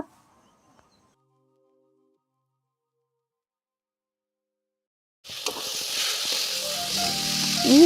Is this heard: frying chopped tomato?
yes